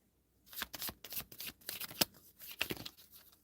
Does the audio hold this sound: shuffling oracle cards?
yes